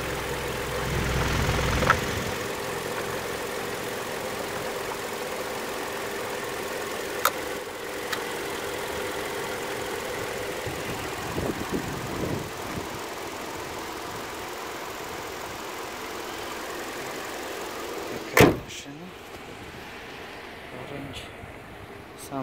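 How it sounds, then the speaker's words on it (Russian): A 2015 Hyundai Sonata engine in good working order idles with a steady, even hum throughout, with a couple of faint clicks and a sharp knock near the end. "Двигатель работает исправно."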